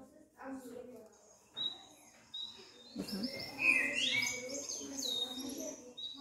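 A bird-chirping sound effect added to a presentation plays as short bright tweets and trills, fairly quiet, mixed in with people talking nearby.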